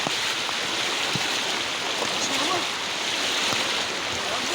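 Water current rushing along a roadside gutter on Kambal Road, Guitnang Bayan 2, San Mateo, Rizal, a steady loud broadband wash with no breaks, with faint voices underneath.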